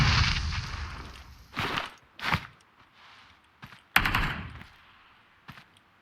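Short bursts of automatic gunfire ring out in the mobile battle-royale game PUBG Mobile, a loud rattling volley followed by several separate single cracks and a second burst, with quiet gaps between them.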